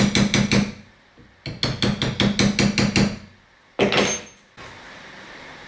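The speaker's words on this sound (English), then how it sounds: "You take your tool and give it short and just run it back and forth." A hand tool is worked back and forth over copper relief metal to smooth a domed design, giving quick rhythmic bursts of scraping strokes in two runs, followed by a louder brief scrape and then quiet.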